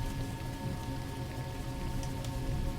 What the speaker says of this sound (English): rain falls beyond the veranda.